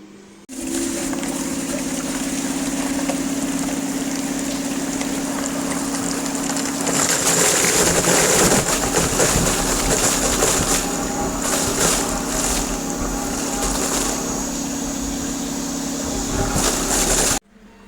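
A Skoda VW 1.6 TDI diesel engine cranks and catches, then runs with a loud, steady drone. It swells briefly in the middle as if revved, and no one talks over it.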